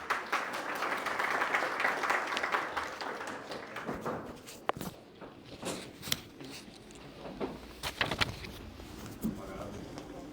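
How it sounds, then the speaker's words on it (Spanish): Applause from a symposium audience, dense clapping at first that thins out into scattered claps and room noise. "al magíster Diego Estrella, a quien solicito un fuerte aplauso"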